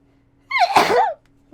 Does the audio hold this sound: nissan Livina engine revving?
no